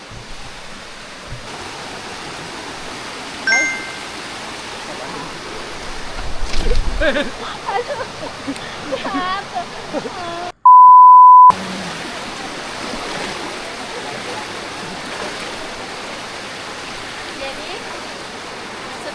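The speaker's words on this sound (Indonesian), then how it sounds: "Kita mau memasuki aliran sungai yang ketiga." A river stream on a forest trek toward a waterfall rushes as a steady, even wash of water noise, with a person speaking briefly over it and a short beep tone midway.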